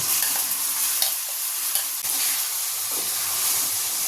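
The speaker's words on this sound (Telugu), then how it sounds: "పోపేస్తున్నా ఆవాలు జీలకర్ర కరివేపాకు ఎల్లిపాయ" Mustard seeds, cumin, curry leaves and garlic sizzle in hot oil in a tempering for eggplant chutney, a loud, continuous close hiss with occasional pops and stirring scrapes.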